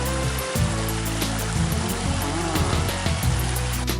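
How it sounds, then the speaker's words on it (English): Waterfall on a river under a bridge at a state park campground, a steady rushing wash of falling water that runs continuously and fairly close, heard without talk. "Listen to the pretty waterfall, kids."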